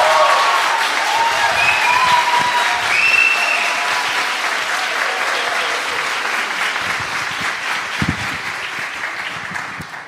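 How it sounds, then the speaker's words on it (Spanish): Audience applause at an artistic gathering at Universidad Alberto Hurtado in Chile: dense, sustained clapping from a room full of people, loud at first and gradually tapering over about ten seconds. "Un aplauso."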